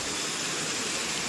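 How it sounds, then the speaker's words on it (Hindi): A waterfall at Rock Garden in Darjeeling pours in a dense, steady roar of rushing water, loud and continuous with no voices. "ये पहला वाटरफॉल है"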